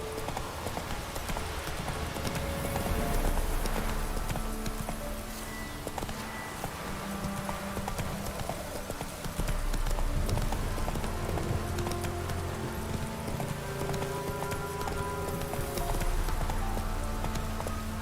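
Horse hooves clip-clop at a steady walking gait in The Witcher 3, rhythmic hoof falls on the ground with ambient game sounds and occasional louder stretches.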